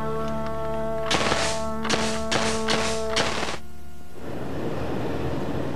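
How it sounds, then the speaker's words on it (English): A Tippmann SMG-60 paintball gun dry fired in an assembly room: five sharp, evenly spaced bursts of hollow mechanical snapping over a steady background hum, fairly loud and near, with no talk. "we'll dry fire it here in the assembly room"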